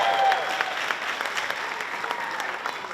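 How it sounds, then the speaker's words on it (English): A crowd at a senior recognition awards evening applauds the graduating students, a steady wash of fairly close hand-clapping with a few sharper individual claps standing out, then slowly thinning. "Can we get a round of applause for these fine young men and women?"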